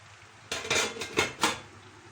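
A spoon scrapes and knocks against a metal pot of spinach being stirred over the heat several times in quick succession, close up, with no talking.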